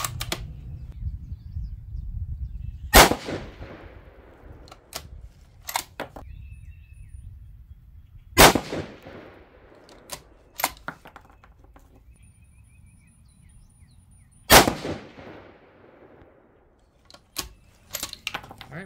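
Rifle shots from a 6mm ARC firing 105-grain BTHP bullets come in 3-shot groups: a few sharp, loud cracks spaced several seconds apart, with smaller clicks and handling noises between them outdoors.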